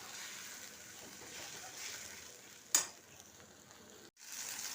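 Ginger, garlic and ground spices (turmeric, coriander and chilli powder) fry in hot oil with a steady close hiss. A sharp clatter comes near the middle and there is a short break before the sizzle resumes.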